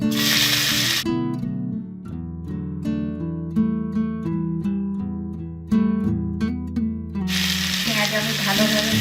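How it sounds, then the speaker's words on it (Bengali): Chopped onion drops into hot oil already seasoned with a bay leaf and five-spice, and a loud, bright sizzle rises at the start and returns at the end, while melodic background music covers the middle. "এবার আমি দিয়ে দেবো পেঁয়াজ কুচি"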